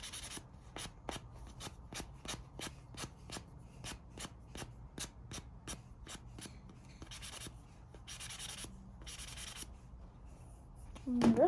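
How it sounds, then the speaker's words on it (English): Light sanding of a handmade pencil pen, a steady series of short, rhythmic scraping strokes repeated close up, with a brief louder rubbing stretch near the end. "And then I just kind of do a light sanding"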